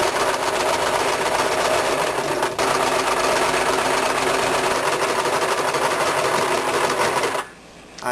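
A sewing machine stitches straight quilting lines across a quilted baby changing pad, running loud and steady for about seven seconds with one brief hitch before stopping abruptly near the end.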